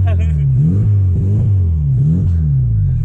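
An old Chevrolet Chevette revs and accelerates, its mid-pitched engine note rising and falling in repeated surges close by, with voices talking over it.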